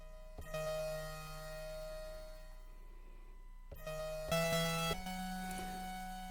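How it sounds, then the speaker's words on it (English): Sharp lead tones from a randomized Magellan synthesizer, sustained bright notes with stacked harmonics sounding in short phrases separated by gaps, moderately loud and alone. "this kind of sharp lead synth that sounds like this"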